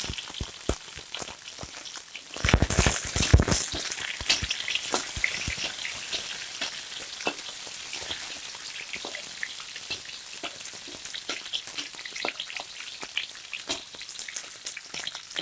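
Sliced chilies added to a pan with crushed ginger for squid and tofu in tauco coconut sauce, giving a steady crackling sizzle with scattered pops and a burst of louder spattering early on, close and continuous.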